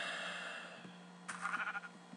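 A Minecraft sheep bleats in a short run of wavering calls near the end, fairly close, over a steady game background hum with no talk.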